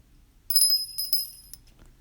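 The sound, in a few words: bell ringing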